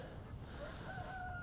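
Chickens in a chicken tractor on a frozen winter morning cluck and let out a short crowing call, faint and drawn out over a steady low background.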